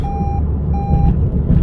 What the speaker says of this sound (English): it makes this beeping